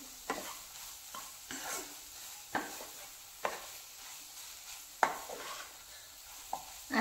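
A spatula stirs egg bhurji with plenty of chopped coriander in a pan, with sharp periodic scrapes every second or so over a soft, steady sizzle.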